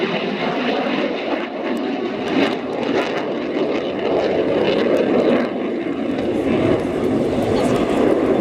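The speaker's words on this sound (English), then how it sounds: "demonstrating the ability of the Boeing F-18 Charlie model fighter aircrafts" A Swiss Air Force Boeing F/A-18C fighter flying a display at an air show gives a loud, continuous jet roar that swells and surges throughout.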